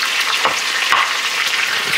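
Pork belly sizzles steadily in a hot pan with sage and garlic, a dense continuous crackle and spit of frying fat with occasional stir scrapes, close and loud, no voices.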